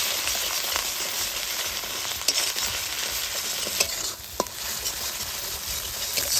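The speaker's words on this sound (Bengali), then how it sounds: "এবার একসঙ্গে ভালো করে মশলাটা কিন্তু কষে নিই" Spice paste with Kashmiri chili powder, salt and turmeric fries for biryani with a continuous close sizzle, while a spoon stirs and scrapes the pan in a few sharp clicks over the crackle, with no voices.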